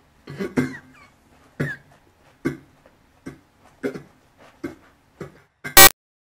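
A man coughs repeatedly on an old recorded tape, about eight separate dry coughs spaced a second or so apart, close and alone. A sharp burst of loud noise cuts in near the end.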